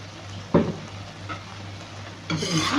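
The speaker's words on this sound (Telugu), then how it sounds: "ఒకసారి మిక్స్ చేసుకున్నాను" A spoon scrapes through a pan of thick roasted vermicelli dessert mixed with rose petals and kewra water, giving two or three short close scraping strokes over a quiet low hum.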